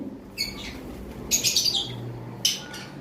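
Bright, sharp sun conure parrot chirps in short bursts over a low background hum, a few calls spaced across the moment.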